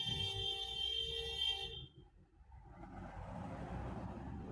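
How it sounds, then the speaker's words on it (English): A car horn blares in a long, loud sustained tone nearby before it cuts off, leaving faint passing traffic rumble behind. "Bit of car beeping action there."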